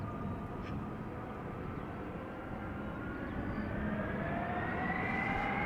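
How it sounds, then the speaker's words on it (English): At Amsterdam Schiphol Airport, an Airbus A330's jet engines spool up for takeoff, a faint, distant whine rising steadily in pitch over a low, continuous rumble. "the A330 already spooling up right away"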